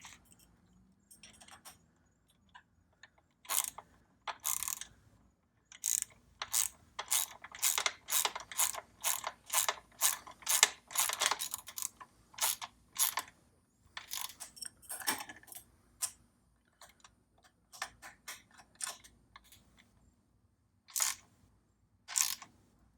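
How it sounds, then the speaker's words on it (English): A 13mm socket ratchet clicks in quick repeated bursts while a crescent wrench holds a bolt, sharp close metallic ratcheting in uneven runs with short pauses, nothing else around it. "you're going to take your 13mm socket and your crescent wrench and snug it up"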